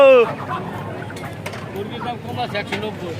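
Chickens cluck in short bursts at a poultry stall in a busy market, a sharp call opening the clip, then fainter clucks under the steady murmur of nearby voices.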